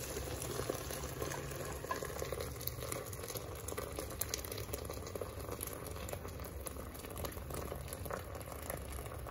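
Vegetable soup boils steadily in a pot, giving a continuous, faint bubbling and gentle hissing simmer with no talk over it.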